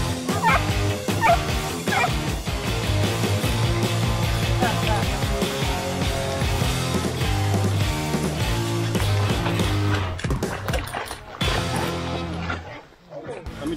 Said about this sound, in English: keep some dogs for hunting hogs